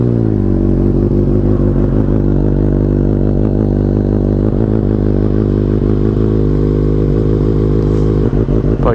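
Suzuki GSX-S 750 motorcycle engine after a cold start, a loud, steady, throbbing idle close to the microphone, with a short rev flutter near the end.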